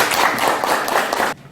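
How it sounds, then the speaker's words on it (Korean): Audience applause breaks out at a local public finance forum on social welfare, a dense steady patter of many hands that cuts off abruptly near the end. "저희 박수 한번 치고 시작할게요"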